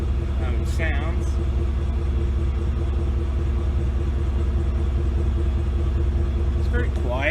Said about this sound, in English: A little exhaust clip. How it sounds.